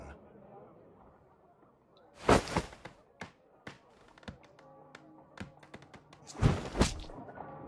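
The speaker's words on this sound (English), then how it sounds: "Throwing a harpoon and pinning a man to a wall requires either exceptional strength and training or diabolical luck" Harpoon thrown and striking a wall in a Sherlock Holmes game, two sharp loud thuds several seconds apart with lighter taps and knocks between them.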